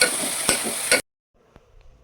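Beans, potatoes and carrots for pulao are stirred in a pan, giving about a second of close clattering scrapes over a sizzle before the sound drops almost to silence.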